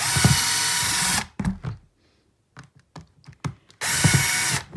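A power drill bores drainage holes through a garden container in two loud, steady bursts at the start and end, with a few short clicks and rattles of handling between them.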